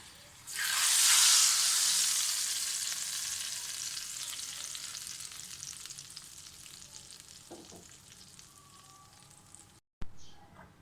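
Fried tempering of spices and chillies poured onto cooked moong dal, a loud sudden sizzle that swells in the first seconds then fades to a steady crackling hiss, ending with a brief knock.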